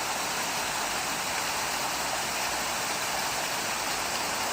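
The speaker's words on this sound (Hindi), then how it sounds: "ये जो पानी आ रहा है ये आ रहा है सीधा झरने से" Water pouring down from a waterfall beside a hiking trail in Nainital, a steady, even broadband rush with no breaks, fairly loud and close, and no voices over it.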